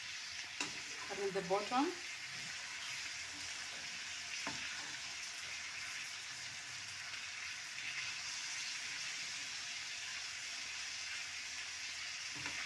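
Tomatoes and omena (silver cyprinid, dagaa) fry gently in a pan on low heat, making a soft, even sizzle throughout, with a short spoken phrase near the start.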